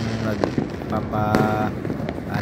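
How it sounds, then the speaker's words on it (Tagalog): Aerial firecrackers burst during a New Year celebration in Manila, a dense continuous crackle of pops and booms at a distance, with voices talking over the noise. "paputok ng aerial firecrackers"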